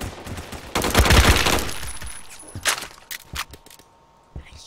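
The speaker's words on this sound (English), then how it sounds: "I can hear the gunshots once again." Gunfire from the first-person shooter game Phantom Forces: a dense burst of rapid automatic shots swells loudly, then thins into scattered single shots and clicks, with faint footsteps underneath.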